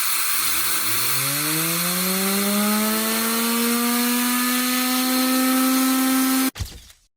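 A Tesla turbine driven by compressed air at 8 bars spins up with a loud rising whine that climbs in pitch and holds steady, then cuts off abruptly near the end.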